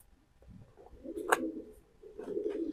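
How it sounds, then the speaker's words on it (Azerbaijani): Racing pigeons coo at a pigeon race in Hajigabul, Pirsaat: soft low throaty calls in a few short bursts, close by and otherwise alone. "Bu quşlar yarış quşlardır, yarışmalıdır inşallah ki"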